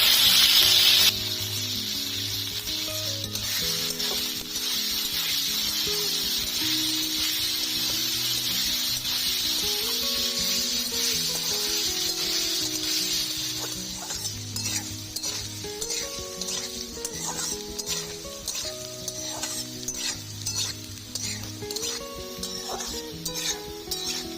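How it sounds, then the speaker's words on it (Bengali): Small-cut potatoes tossed into hot oil with salt and turmeric give a loud burst of sizzling, then settle into a steady close frying hiss that runs throughout under background music. "দুটো আলুকে আমি এরকম ছোট ছোট কেটে নিয়েছি, দিয়ে দিচ্ছি, ভেজে নেব।"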